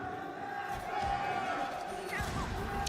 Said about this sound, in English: the FaZe clan crowd trying their best to provide some points here